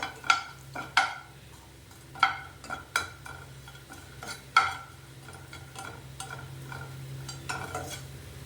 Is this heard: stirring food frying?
yes